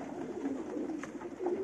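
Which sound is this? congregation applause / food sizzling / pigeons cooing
pigeons cooing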